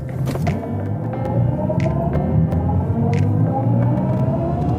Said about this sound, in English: Let's accelerate it out. Let's go. Launch control.